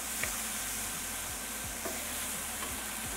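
Onions sautéing in a pan for beef stroganoff, a soft, even sizzle with occasional light stirring strokes, fairly quiet and steady with no voices.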